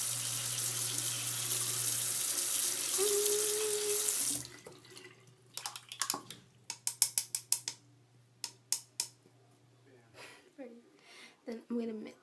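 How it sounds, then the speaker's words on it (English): Tap water runs steadily into a sink for about four seconds while a paint brush is rinsed during face painting. Then come quieter clicks and knocks, with a person speaking softly under them. "And I'm going to rinse my brush."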